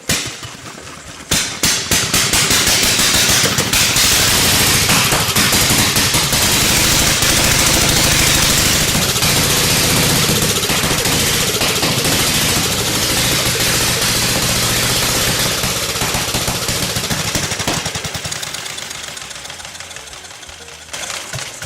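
An antique motorcycle engine fires up and runs, a loud, steady, rough mechanical roar with rapid knocking pulses that holds for about twenty seconds before easing off near the end.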